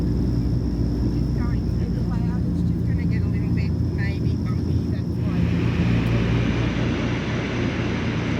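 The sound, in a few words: WWII-era DC-3 airplane in flight, cabin engine noise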